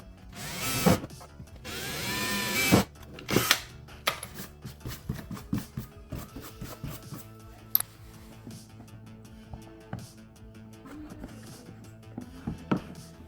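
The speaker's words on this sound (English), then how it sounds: "So that one and that one, I'm gonna drill on here and put screws in there." A power drill drilling holes into an OEM Sport rear diffuser on an NC Miata: a few short whirring bursts up close, then scattered tapping and handling knocks.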